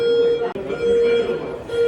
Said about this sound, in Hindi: आपको अलार्म की आवाज़ आ रही होगी बैकग्राउंड में